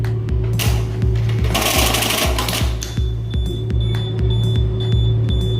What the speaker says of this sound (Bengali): এখন আমরা আবার প্যাডেলটাকে প্রেস করে মেশিন চালিয়ে দেখব।